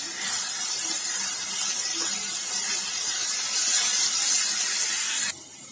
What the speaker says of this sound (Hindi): ये 1 टेबल स्पून लहसुन अदरक का पेस्ट है, इसे हम इसमें डाल देंगे और अच्छी तरह से भूनेंगे।